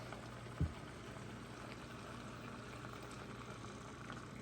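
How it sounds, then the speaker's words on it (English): Chicken and pork chops frying in a pan with barbecue sauce and added water: a soft, steady bubbling sizzle, faint and continuous, with one brief low knock near the start. "it's kind of slowed down the frying process on the chicken and the pork chops"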